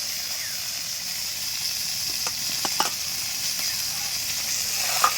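Fish sputters in hot oil in a pan set over a wood fire in a garden, a constant sizzle close by punctuated by several crisp popping spatters, some clustered together, with no voices.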